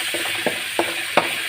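Ginger garlic paste frying in a pan, a steady close sizzle broken by four evenly spaced clicking taps.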